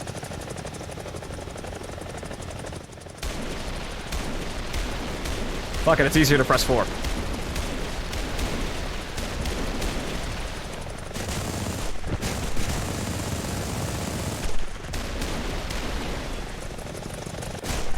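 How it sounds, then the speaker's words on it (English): A helicopter's cannons fire in a War Thunder aerial battle, with dense bursts of gunfire over a steady rotor and engine drone while a player talks throughout. "I'm firing the cannons at the same time, aren't I?"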